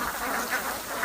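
Farm ducks kept for profit give off a soft, close-up stretch of nasal quacking and murmuring chatter that lasts a brief moment.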